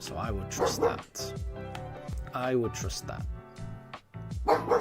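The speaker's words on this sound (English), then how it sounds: "There's a neighbourhood dog barking." A neighbourhood dog barks in repeated short bursts in the background while a person talks continuously over it.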